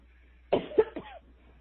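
A single person coughs once, a short burst of two or three close, fairly soft hacks with a rough throaty edge, alone against a quiet background.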